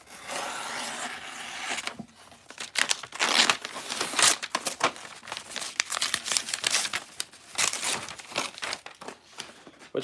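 Hot glue being cut away from a handmade glue shoe, giving continuous crinkly, crackling scraping and tearing sounds close up, with short pauses and bursts of rustle across the stretch, no talking.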